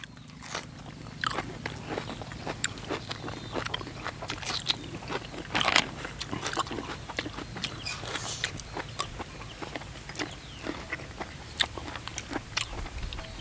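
Someone chews crunchy, hard-shelled shellfish up close, with repeated crisp bites and crackling crunches in an irregular rhythm and a faint steady hum behind them.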